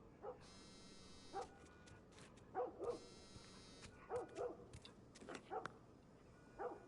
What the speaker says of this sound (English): Notice the dog barking.